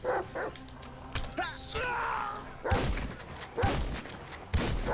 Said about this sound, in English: That dog won't die.